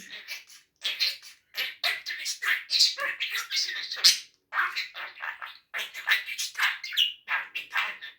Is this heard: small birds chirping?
yes